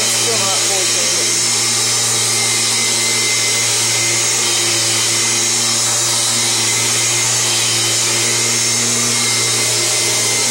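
A 1999 Kirby G6 upright vacuum cleaner runs steadily and loudly for the whole stretch, its motor giving a constant whine with a broad rushing airflow. There are no breaks or pauses.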